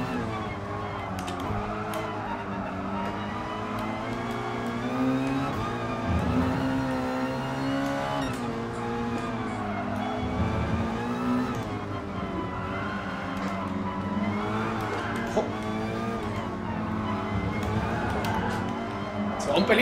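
Honda Sports Vision Gran Turismo race car engine in GT Sport, droning and revving steadily throughout a race lap, shifting pitch through gear changes, with a voice talking over it.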